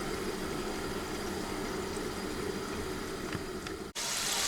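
Potato slices frying in a pan for an oven-baked potato moussaka, a steady dense sizzle held at an even level throughout, with a brief dip near the end before the hiss rises brighter.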